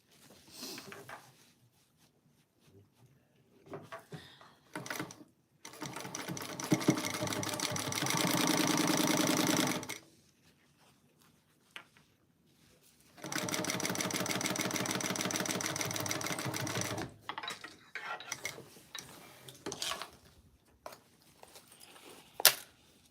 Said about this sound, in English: we're going to sew down the sides